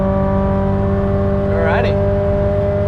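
A Nissan S15 on the Nürburgring holds a loud, steady engine drone at constant revs from inside the car, with a brief sweeping whine as the gear changes midway.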